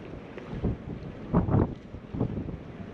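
Wind gusts blow by murky water under a bridge, buffeting the microphone in uneven rushing bursts that swell and fade, close and moderately loud, with no talking.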